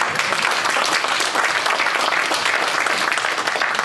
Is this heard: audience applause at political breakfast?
yes